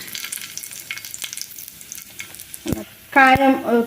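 Fenugreek seeds and dried red chillies frying in oil in a pan for grandmother-style rasam, giving a steady sizzle with stirring scrapes and a louder burst of crackling near the end.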